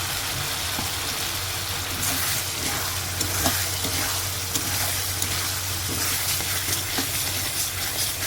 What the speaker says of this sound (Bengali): এবার চিংড়ি মাছগুলো আমি মশলার মধ্যে দিয়ে দিচ্ছি